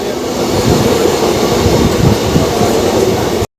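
Express train 58029 from Kolkata to Digha running at speed, a steady loud rumble of wheels and carriage noise filling the whole stretch before cutting off abruptly.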